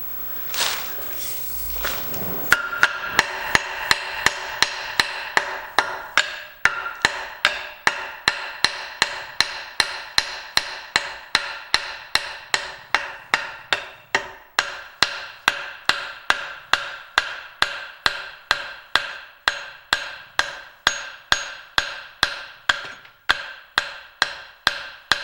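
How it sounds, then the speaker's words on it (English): Hammer blows on a Homelite T12 transmission, a long run of sharp metallic strikes at a steady, fairly quick rhythm, loud and close, following a brief rustle at the start. "Where's the hammer? There it is."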